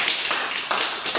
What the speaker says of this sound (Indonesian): Tepuk tangan dulu untuk Anda semua.